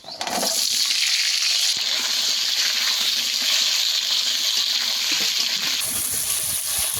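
Potato frying in hot oil with panch phoron and nigella seeds, a steady loud sizzle and crackle running continuously close by, with a brief stir partway through and no talking.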